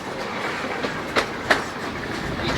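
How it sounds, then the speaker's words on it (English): A St Kitts scenic railway train on 30-inch narrow gauge track, hauled by an LYD2060 hydraulic diesel engine, rolls along with a steady rumble and two sharp clacks of wheels over rail joints. "Train is powered by an LYD2060 hydraulic diesel powered engine."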